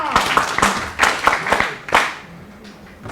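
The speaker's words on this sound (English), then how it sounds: "Ladies and gentlemen, give him a big round of applause for the kind." Audience claps after Prof K Nageshwar's lecture on digital journalism, loud, distinct hand claps in an uneven rhythm near the listener, thinning out and fading toward the end.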